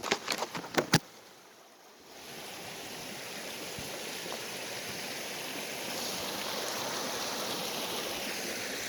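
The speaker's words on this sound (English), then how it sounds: "Alright, looks like I found a nice little spot here by the creek." A creek runs through Hells Canyon on a cold night, its steady broadband rushing rising after a few sharp clicks and a brief lull, then continuing evenly and fairly close with no voices.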